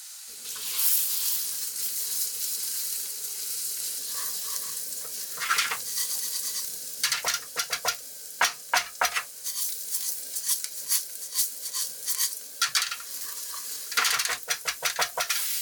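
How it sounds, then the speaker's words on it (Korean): Rice stirred and toasted in oil with shallots in a pan for a shrimp risotto, giving a soft sizzle broken by repeated scraping and clattering stirs that grow busier toward the end, close and alone. "샬롯이 충분히 볶아지면 쌀을 넣고 오일로 코팅하듯이 볶아줍니다"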